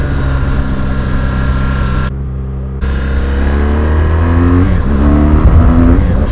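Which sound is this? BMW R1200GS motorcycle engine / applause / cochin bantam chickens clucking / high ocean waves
BMW R1200GS motorcycle engine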